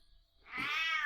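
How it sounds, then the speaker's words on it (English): A pet cat gives a single drawn-out meow that starts after a short quiet pause and holds steady to the end. It sounds close and moderately loud, and no one speaks over it. "there's my own roaring kitty"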